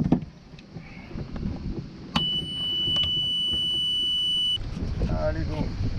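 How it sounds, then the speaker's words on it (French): A sailboat's auxiliary engine being started at sea in the Gulf of Patras: a low rumble, then a long steady ignition buzzer tone, then the engine churning low, with people talking nearby. "on va démarrer le moteur pour avancer"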